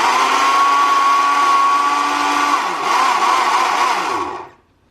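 A blender whirs at a steady high pitch as it purees soft boiled carrots for baby food, loud and close, then winds down and stops near the end.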